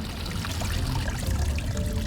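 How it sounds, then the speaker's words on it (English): Water poured into stirred water chestnut flour in a Macau kitchen, a soft, steady splashing and trickling pour, fairly close and continuous over a low background rumble, with no voices. "馬蹄沙咧攪拌咗之後咧，就需要落水"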